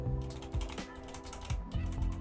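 Keystrokes clack on a Redragon K556 Pro tenkeyless aluminum keyboard fitted with Otemu red linear switches, a few close, distinct presses in an uneven rhythm, heard alone without talk.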